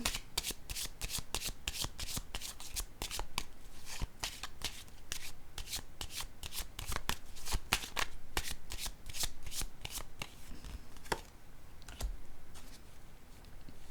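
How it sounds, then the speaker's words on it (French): Tarot cards shuffled and laid down, a long run of crisp close riffling flicks and soft taps in an irregular rhythm with no voices. "Je vais déposer une autre carte ici."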